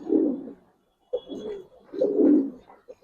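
Giribaz pigeons back from a tournament coo close by in about three low, rolling bursts separated by short pauses, with no one talking.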